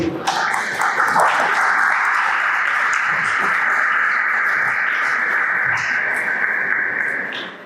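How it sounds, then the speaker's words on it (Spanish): Audience at a university lecture event applauds steadily for several seconds, a dense, even wash of clapping that swells and then fades out at the end. "para que dio un fuerte aplauso, por favor"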